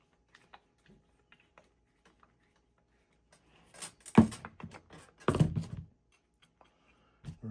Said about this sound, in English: now it's a matter of putting some screws back in here